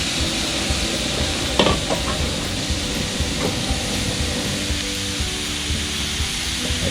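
Minced beef for larb being dry-roasted in a pot, with a steady loud sizzle and crackle and the occasional scrape of stirring, close up.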